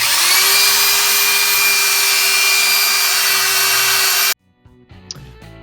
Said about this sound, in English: having a electric drill that was a little smaller would probably have been a lot easier